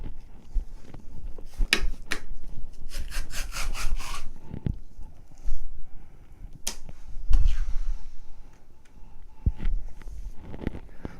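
A knife skins a flounder fillet in zigzag strokes, giving close, dry rasping scrapes in short bursts, including a quick run of rapid strokes, separated by quieter pauses and soft knocks.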